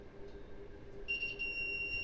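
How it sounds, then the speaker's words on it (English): A steady electronic buzzer tone sounds alone in a simple wired circuit with a light, starting partway through and holding a continuous high pitch over a low background hum. "the buzzer is ringing"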